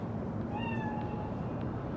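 A cat meows in Cyberpunk 2077, a single drawn-out mew rising and falling over a steady background hum, fairly close and alone with no talk.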